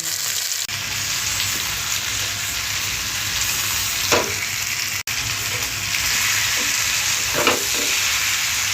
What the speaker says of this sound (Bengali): এই যে আমি রান্নাটা করছি মাংসের তরকারি